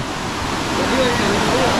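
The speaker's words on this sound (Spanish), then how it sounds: "Es una caída de agua bien bonita" A waterfall on a river at Agua Caliente, Chalatenango, El Salvador, pours with a steady, loud, broadband rush of falling water that fills the whole short stretch without pause.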